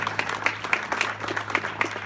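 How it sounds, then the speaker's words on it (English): Guests at a university program's 25-year celebration dinner give a round of applause, sparse distinct claps with a pulsing rhythm at moderate level, faint room hum beneath. "round of applause for Sam"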